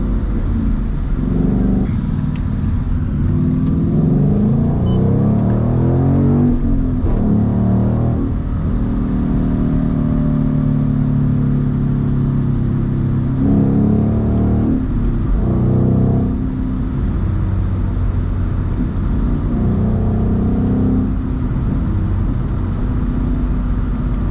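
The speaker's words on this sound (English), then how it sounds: "I like my car to have a distinctive, nice tone to it" A manual Ford Mustang GT sports car engine drones steadily throughout, its low exhaust note rising and falling as it revs and accelerates, close and loud.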